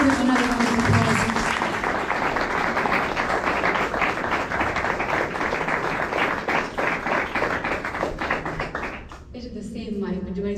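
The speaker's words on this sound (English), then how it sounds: "Please give them another round of applause." Dense applause and clapping from a concert audience after a music performance, loud and sustained for about nine seconds, then fading out as a voice begins to speak.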